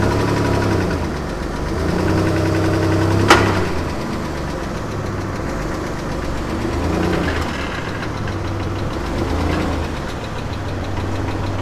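A car engine idles with a steady knocking rumble, then swells briefly as gas is applied, settling back to a low, even hum that rises and falls slightly.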